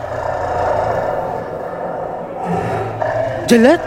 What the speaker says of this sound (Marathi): वाघाची डरकलची रिंगटोन लावली होती मी येताना